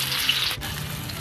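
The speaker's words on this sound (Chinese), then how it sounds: "豆腐下锅煎" Tofu frying in oil in a hot wok at home, a steady close sizzle with a watery, crackling hiss and a brief dip midway, no talk.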